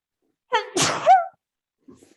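A single sharp sneeze, loud and close, with a quick intake then explosive burst, followed by a faint soft sound.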